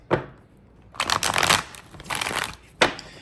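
Tarot cards shuffled by hand in a few quick riffling bursts, close and crisp, with a short pause between them and a final snap of the deck.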